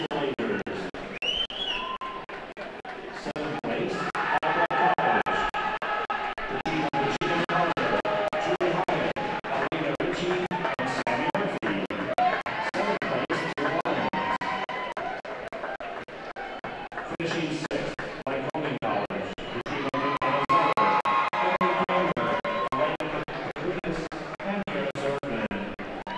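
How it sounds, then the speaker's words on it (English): Loud crowd at a college swimming championship session, steady cheering and chatter filling an echoing natatorium, with an announcer's voice running over the hubbub throughout. "Obviously a loud crowd here this evening"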